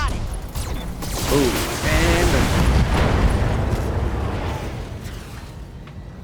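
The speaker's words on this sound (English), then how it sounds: "Now going to alternate between ultra auto cannons" Ultra autocannon fire and heavy explosions from the Battletech video game rumble in a dense, sustained barrage with booming impacts, while a voice briefly speaks over it.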